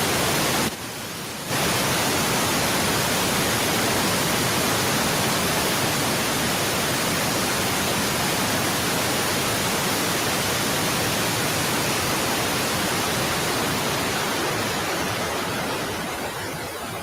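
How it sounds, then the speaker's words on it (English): White noise played in a courtroom to mask a conversation gives a loud, steady broadband hiss that runs almost without a break, with one brief dip near the start. "Will you turn the white noise on?"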